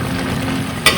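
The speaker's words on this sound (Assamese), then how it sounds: "লাউৰ আগ ভাজিছো আলুৰ লগত" Gourd shoot tips and potatoes fry in a pan, a steady close sizzle throughout, ended by one brief sharp clatter of stirring.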